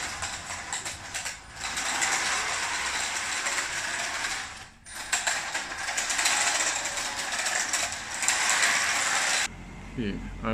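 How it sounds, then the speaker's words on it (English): RC tank's outer wheel track jumping on improved track wheels: a dense, loud mechanical rattling and clicking from the running gear, with a brief pause midway and an abrupt stop near the end. "I want you to be able to see the outer wheel track jumping"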